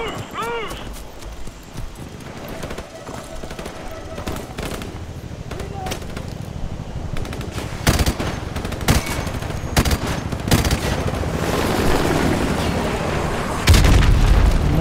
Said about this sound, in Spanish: ¿dónde diablos están disparando?